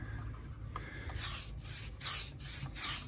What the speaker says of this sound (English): just brushing that in further